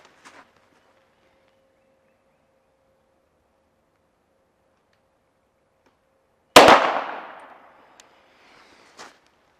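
A single loud rifle shot cracks out after a long quiet stretch and rings away in a decaying echo, followed by faint small clicks, fired at a distant target on a range.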